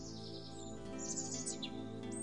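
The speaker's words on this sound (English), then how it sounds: "The robin bird keeps singing, reminding us of the bird song of warmer months." A robin sings in a cold, frosty early morning, its sweet high-pitched phrases and chirps repeating in short bursts, soft and fairly distant over a steady low background hum.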